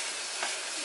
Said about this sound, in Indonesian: kita mau pan fry, tes aja kemudian kita olesin ke teflon ya